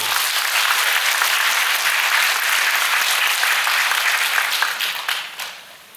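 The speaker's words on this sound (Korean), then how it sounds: "박수 한 번만 부탁드릴게요." Residents at a Mokdong 13 complex redevelopment briefing clap together in a sustained, even roar of applause that thins and fades out near the end.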